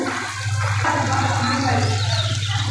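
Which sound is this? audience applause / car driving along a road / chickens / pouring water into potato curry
pouring water into potato curry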